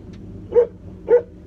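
Dogs at a rural barn give two short, close barks about half a second apart over quiet background hum.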